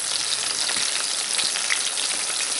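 Chicken sizzles and fries in a partly covered pan for a low-carb chicken parm, a dense, continuous crackling hiss heard up close and steady throughout, with no voices.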